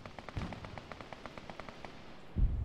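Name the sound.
explosion in video game Arma 3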